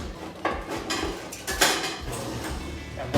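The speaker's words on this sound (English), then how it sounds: "we just need to stir to make sure that everything is evenly combined" Spoon or utensil clinking and scraping against the pot while stirring vegan black bean soup in a slow cooker, a few close, irregular knocks and scrapes with no talking.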